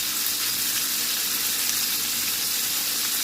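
Chicken fries in a small amount of oil in a pan, giving a steady, close, crackling sizzle with spatter. The hiss runs alone without a break.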